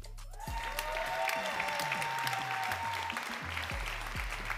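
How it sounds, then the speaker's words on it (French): Applause from the audience at a bachelor's graduation celebration, steady clapping throughout with a low musical drone and a few sustained tones underneath. "nous allons applaudir Margot Monnier."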